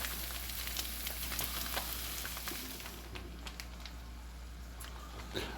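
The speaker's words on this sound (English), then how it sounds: "Now, we're going to mix our meat mixture with our veggies, cooking it thoroughly." Pulled pork and onions frying in a pan and being stirred together, a steady close sizzle with occasional scraping clicks and soft stirring sounds throughout.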